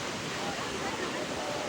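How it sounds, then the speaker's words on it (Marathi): Strong sea waves make a continuous, loud rushing roar that stays at a constant level throughout, with no distinct breaks between swells. "देखो गाइस लाटा खूप जोरात चालू आहे"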